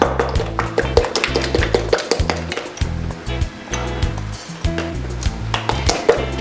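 A spoon mixes sugar into coleslaw dressing in a bowl with quick, repeated clinks and scrapes against the bowl in an irregular rhythm, close and fairly loud, with no talk.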